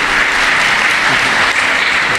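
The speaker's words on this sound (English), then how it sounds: "Please give everybody a round of applause" Audience applause at a dog show, a dense, steady wash of many hands clapping that holds at a loud, even level for the whole stretch with no talk over it.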